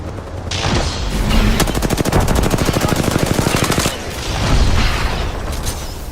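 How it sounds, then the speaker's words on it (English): Video game combat as a grenade is thrown and gunfire erupts: a sustained, loud burst of rapid automatic fire with dense, evenly spaced shots, followed by further heavy shooting and blasts. "Frag out. Frag thrown."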